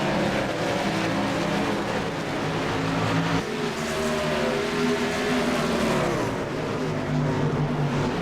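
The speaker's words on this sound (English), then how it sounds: "Scott Sanderson driving by." Race trucks in an oval-track truck race roar past loudly and continuously, engines droning with a pitch shift as one goes by midway, the sound dense and close with no speech over it.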